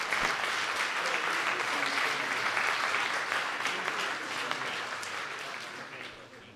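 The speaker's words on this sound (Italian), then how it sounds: "un applauso anche per loro" Audience applause at a talk honouring Padre Dario Pili, steady dense clapping from a full room that holds level and then slowly fades toward the end.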